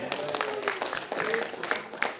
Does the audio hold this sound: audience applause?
yes